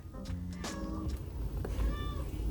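A cat meows several times close by, with short, bright calls that rise and fall against a quiet indoor room.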